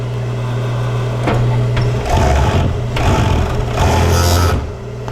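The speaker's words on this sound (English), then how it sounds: "we're going to serge the top edge so it doesn't fray" A Juki 3612 serger hums steadily as it serges the top edge of fabric, with bursts of fast stitching rattle rising and falling in close, loud passes.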